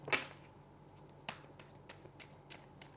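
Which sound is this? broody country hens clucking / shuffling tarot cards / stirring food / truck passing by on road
shuffling tarot cards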